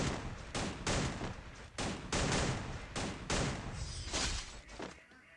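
Rapid gunfire in a mobile shooting game custom match, aimed for headshots, rings out as a series of sharp, evenly spaced shots about every half second, loud and alone before a brief quieter tail.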